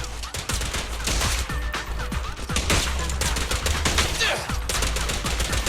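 Rapid bursts of gunfire from the video game Zenless Zone Zero, a dense, loud fusillade of shots rattling continuously with brief gaps, close and sustained throughout.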